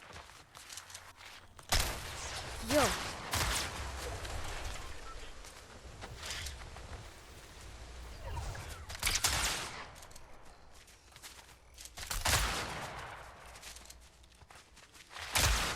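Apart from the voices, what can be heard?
gunfire in a video game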